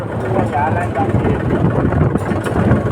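A tractor engine runs steadily close by on a farm field, a low continuous rumble under people talking.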